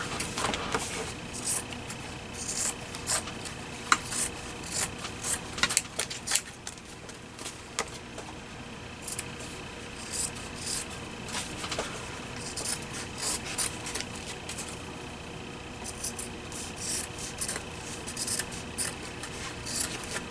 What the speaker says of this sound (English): These scissors, I wonder if these would work better.